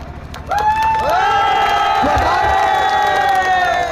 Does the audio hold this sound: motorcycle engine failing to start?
no